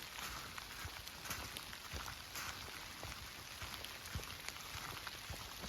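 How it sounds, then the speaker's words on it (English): Rain mixed with sleet patters steadily onto a rain jacket during a hike through Holiday Lake State Park, a dense, even hiss of tiny impacts close to the microphone with no voices. "Switching back and forth between rain and sleet."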